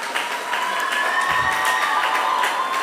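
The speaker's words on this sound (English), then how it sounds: "a very big round of applause for our sisters" A crowd at a jubilee felicitation ceremony applauds the honored sisters, steady dense clapping with some cheering mixed in, continuous and fairly loud throughout.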